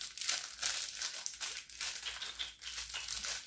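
Plastic packaging around a small elastic bracelet crinkling and crackling close up in uneven handling bursts, with no voices.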